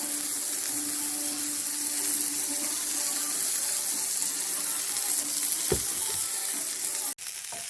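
Green asparagus sizzles in olive oil on a hot plancha, a steady, close broadband frying hiss that runs throughout, with a brief thump near the end and no voices.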